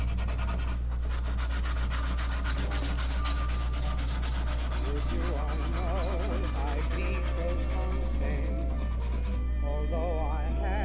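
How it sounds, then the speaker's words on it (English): Steady abrasive rubbing of sandpaper on wooden furniture feet, stripping a thick black finish back to bare wood, continuous and close with a low hum beneath and a faint voice in the background. "It's kind of some thick black that we had to sand off of this."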